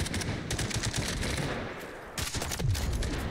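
Rapid bursts of heavy gunfire from a tank in the Delta Force shooter game, dense repeated shots filling the clip, loud and close, with a brief lull before firing resumes.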